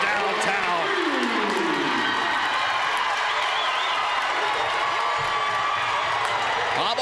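A crowd at a girls' high school basketball game cheers and roars after a three-pointer, a sustained loud swell of voices and whoops with an announcer talking over it.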